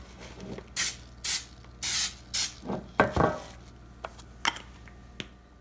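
Pam cooking spray is sprayed onto a not-so-great pan: a series of sharp hissing bursts, several short pumps in quick succession followed by a few fainter spritzes, with no talking.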